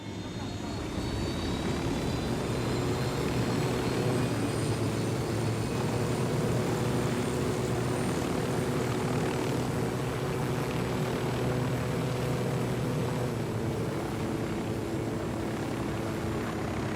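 Steady aircraft engine drone sustained throughout while piloting in the video game Ghost Recon Wildlands, a loud continuous hum with faint high whine, with voices talking over it.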